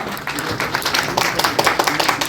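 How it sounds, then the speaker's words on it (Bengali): Dense, steady clapping from an audience at a university freshers' welcome event, sustained throughout with rapid overlapping claps at a moderate, close level. "সকলে একবার করজোরে হাততালি হয়ে যান"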